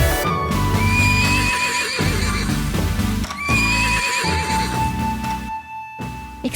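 A horse neighs twice in long, loud whinnies with a rhythmic clip-clop of hooves beneath, close and clear, as a sound effect with no speech.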